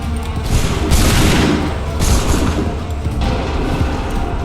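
Redcoat-style musket volleys in Assassin's Creed III, several loud massed fusillades in quick succession, each a crackling burst of many shots fading into smoky rumble.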